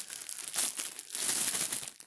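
A plastic bag of sweets crinkles and crackles as it is opened, close and fairly loud, in a steady run of rustling bursts with no talk.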